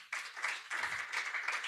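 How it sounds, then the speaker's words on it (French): A church congregation applauds and cheers the Holy Spirit, a short burst of bright, dense clapping from many hands filling a hall at moderate distance, fading briefly and then swelling again. "Est-ce qu'on peut acclamer le Saint-Esprit?"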